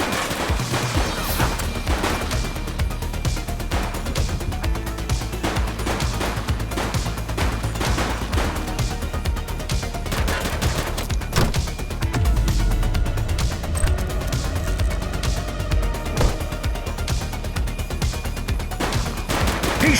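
Dense, sustained gunfire in a police shooter game, rapid overlapping shots and bursts hammering continuously at high volume for the whole stretch with no voices.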